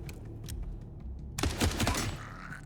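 Video game gunfire bursts out in a rapid, dense volley after a brief quieter stretch of faint clicks, loud and close, then trails off.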